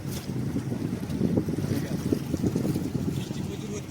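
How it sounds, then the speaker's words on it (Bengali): Stormy, rainy weather aboard a fishing boat on the Matla river in the Sundarbans: loud, continuous wind buffeting and rushing water close to the microphone, with a voice talking over it. "প্রচুর ওয়েদার খারাপ, বৃষ্টি, তার মধ্যেও আমরা চেষ্টা করছি।"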